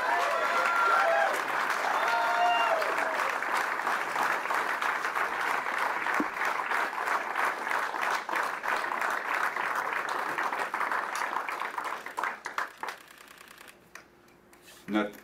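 Sustained crowd applause at a by-election night political speech, dense and steady clapping filling the room for about twelve seconds before thinning out and fading to near silence at the end.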